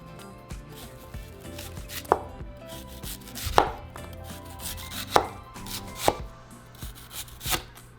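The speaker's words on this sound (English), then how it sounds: "next we're going to slice our onion" An onion being sliced with a knife on a cutting board, with about half a dozen distinct chopping thuds at irregular intervals, close and clear, with no talking.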